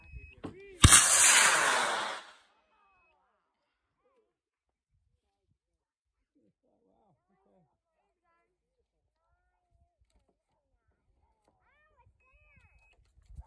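A model rocket launches at a club flying field after a countdown, with a sudden loud whooshing burst of rocket motor thrust lasting just over a second that then cuts to near silence, and a faint voice comes near the end.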